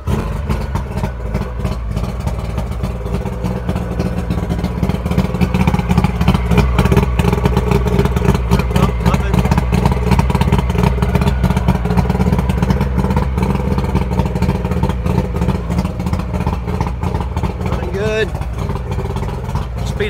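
A 1998 Mariner 90hp outboard boat motor runs close by with a loud, rapid chugging and clattering idle, rhythmic and steady, while people talk over it.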